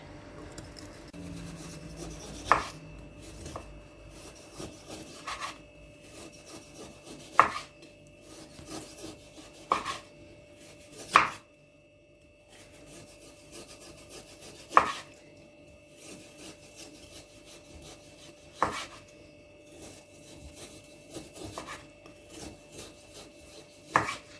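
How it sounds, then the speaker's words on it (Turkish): Knife strikes on a cutting board while thinly slicing cold meat for homemade İskender kebab, sparse and spaced several seconds apart, each a sharp close tap over a quiet room background. "ben bunları bu şekilde doğrayacağım"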